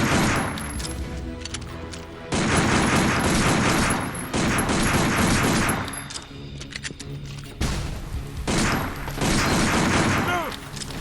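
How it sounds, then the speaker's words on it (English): Bursts of machine-gun fire and other gunfire crackle during a firefight in the video game Binary Domain, coming in several loud sustained volleys separated by brief lulls. "they got us pinned down. Dan, I'll take care of the machine gun"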